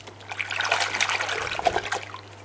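Clean water pours and trickles for a pet budgie's bath, a steady splashing stream close by with a low hum underneath.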